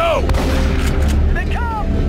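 Combat gunfire fills a firefight in The Bureau, a third-person shooter. Dense, loud, continuous shooting and blasts run throughout, with sharp whizzing streaks over the top.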